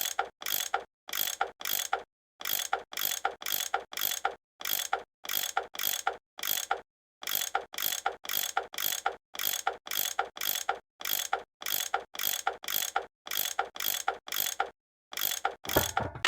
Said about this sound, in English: That tool I saw in the caboose, I bet that's what you use to unscrew these bolts